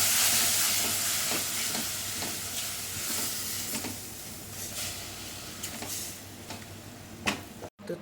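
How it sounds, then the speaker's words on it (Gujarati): Onions for a Gujarati kaju gathiya shaak fry in a pan with a steady, soft sizzle, punctuated by light clicks and scrapes of stirring. "ડુંગળીને બરોબર બ્રાઉન થાય ત્યાં સુધી શેકી લઈશું સરસ"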